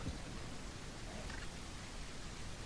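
Steady, hissing rain in the video game The Isle Evrima fills the space evenly, a continuous broadband wash with no distinct drops or voices, like a downpour ambience.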